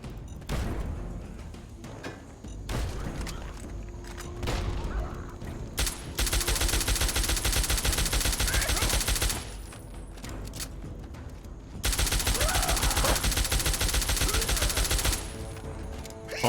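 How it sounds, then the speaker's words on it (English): Automatic weapon fire in Fallout 3, with rapid sustained bursts of several seconds each separated by quieter stretches of scattered single shots and game ambience. "Automatic weapons."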